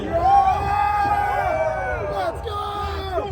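Party crowd on the Fast & Furious Supercharged ride at Universal Studios Hollywood, whooping and cheering loudly with voices mixed into the noise.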